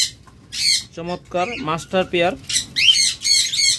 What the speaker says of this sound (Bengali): ককাটেল রেড আই পাখি জোড়া